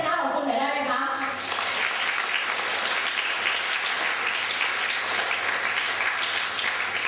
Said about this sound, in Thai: ปรบมือให้ชัยชนะของคุณหน่อยได้ไหม